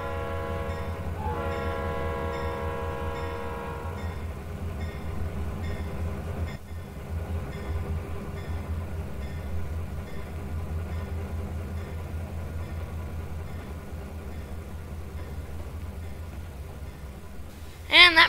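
Simulated Norfolk Southern freight train rolling past a crossing in Trainz: A New Era, a steady low rumble of wheels and engine throughout, with a horn-like tonal blast early on and a sharp clatter at the end.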